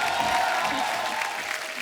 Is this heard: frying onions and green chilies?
no